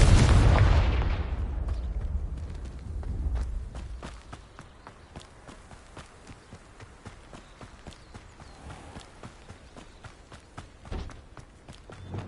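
A Confringo spell explosion in the video game Hogwarts Legacy: a loud booming blast at the start that decays over a few seconds, followed by quieter scattered footsteps and small clicks.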